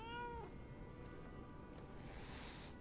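A cat in the Lies of P video game gives one clear drawn-out meow at the start, followed by quiet game ambience.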